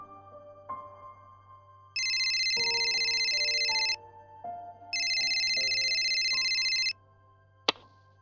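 A home telephone rings in two loud, even bursts of electronic trilling separated by a short pause, over soft melodic background tones, followed by a sharp click.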